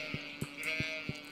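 Sheep bleats from the farm game Stardew Valley, a short series of evenly spaced, clipped calls repeating about every third of a second over a steady synthetic background tone, moderately loud and with no one talking.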